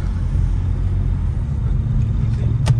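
A BMW E90 335i with the N54 engine pulls hard, its steady, loud engine and road rumble holding up close the whole time, with a faint brief higher whine near the end.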